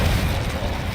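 A Confringo spell blast from Hogwarts Legacy gives a brief, heavy, booming explosion with a dense low rumble that fills the whole moment, close and loud.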